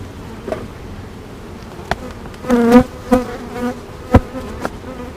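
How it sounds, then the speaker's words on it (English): Honeybees around a backyard beehive, close buzzing passes that rise and fade over a low hum, with a few sharp knocks and no talk. "there were bees all over the place"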